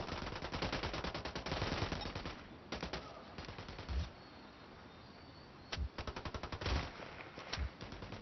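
Automatic gunfire in the tactical shooter Ghost Recon Wildlands, with long rattling bursts and short volleys separated by brief pauses, close and loud throughout with no voices.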